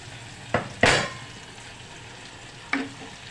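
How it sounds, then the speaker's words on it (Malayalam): Cooked horse gram tipped into a masala mixture in a pan and stirred, heard as a few sharp scrapes and knocks of a spoon against the pan over a faint sizzle. "ഇനി ഈ മസാലക്കൂട്ടിലേക്ക് നമുക്ക് ഈ വേവിച്ച് വെച്ച മുതിര ചേർത്ത് കൊടുക്കാം"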